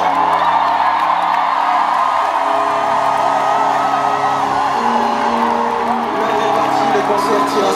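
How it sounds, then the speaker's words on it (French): Concert crowd at the Zénith in Paris cheering and whooping with joy, a loud, dense roar of many voices with sustained shouts, continuous throughout. "Pousser des cris de joie."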